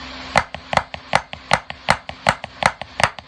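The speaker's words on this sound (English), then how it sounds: "You get a nice flam sound." Crisp stick hits on a drum repeat in a steady, quick pattern, each stroke doubled into a tight flam, close and clear with no talking.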